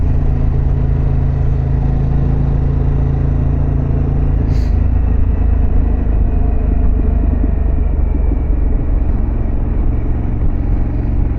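A Harley-Davidson Pan America Special motorcycle cruises along a road, its engine a deep, steady rumble heard from the rider's position, mixed with constant wind roar and one brief high click partway through.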